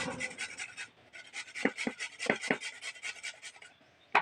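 Fresh washed carrots rasped against a hand grater in a home kitchen, a run of quick scraping strokes that pause briefly and resume, close and fairly quiet with no talking.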